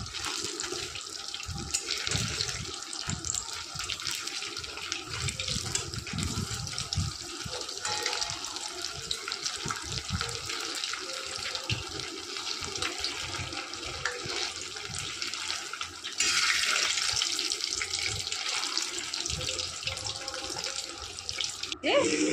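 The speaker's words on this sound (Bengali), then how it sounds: "লাল করে ভেজে নিয়েছি ওই লাল হয়ে গিয়েছে" A snack fries in hot oil for an evening or fasting-day treat, making a steady, bubbling sizzle that runs on and on, with someone talking over it.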